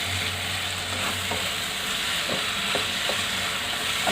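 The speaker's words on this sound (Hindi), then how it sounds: "और इन सबको भून लेंगे अच्छी तरह से।" Paneer keema with chopped capsicum and salt frying in a pan, a dense continuous sizzle with a few soft scraping strokes of a spoon stirring through it, near and steady.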